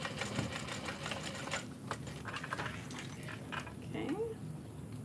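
A sewing machine stitches a bowler bag panel near its lining in short runs with brief stops for a backstitch, while a person talks quietly over it.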